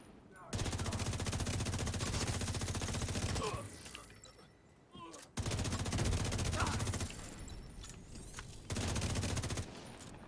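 Shotgun fire in a video game pounds out in long rapid volleys, three sustained bursts of loud, closely packed blasts separated by short quieter gaps with scattered game sounds.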